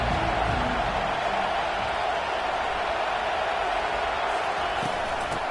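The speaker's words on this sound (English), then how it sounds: "This crowd trying to show them what it's going to be like all day in this house." Stadium crowd noise in a Madden football video game: a loud, dense, continuous roar of fans that holds steady throughout, with faint cheering and no clear voice on top.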